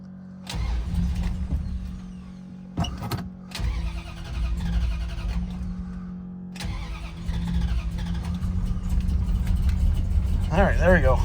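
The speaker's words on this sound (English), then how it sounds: "let's go ahead and start the car" A 1966 Dodge Charger with a freshly rebuilt 426 HEMI and electric fuel pump cranks with a couple of short bursts, then catches and settles into a loud, rumbling idle close to the car.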